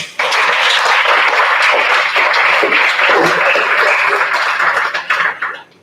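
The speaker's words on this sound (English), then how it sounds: "Can we give another round of applause for her?" Loud, dense audience applause at a 2021 senior recognition ceremony on a school campus, a continuous roar of many hands that holds steady, then breaks into a few scattered claps and stops.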